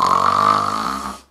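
A voice imitates a snore with one sustained, buzzy, flappy throat rattle during a yoga breathing lesson, loud and close, fading out near the end.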